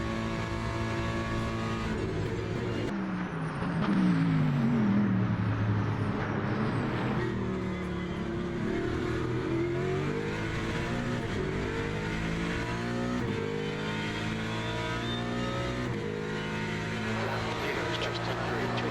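GT3 race cars in the Le Mans Ultimate racing game, a Mustang and a BMW side by side, engines loudly revving and climbing through gears with rising and falling pitch, while someone talks over them.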